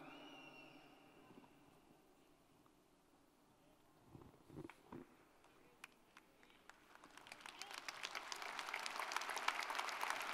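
Scattered, slow claps begin sparsely and then swell into fuller applause from a church congregation toward the end.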